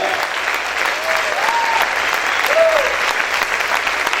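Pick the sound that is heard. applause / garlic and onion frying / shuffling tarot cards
applause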